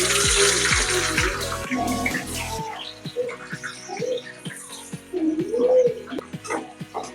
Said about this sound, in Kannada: ಫ್ರೆಂಡ್ಸ್, ಈಗ ಕಟ್ ಮಾಡ್ಕೊಂಡಿರೋ ಈರುಳ್ಳಿ ಹಾಕ್ತಾ ಇದ್ದೀವಿ.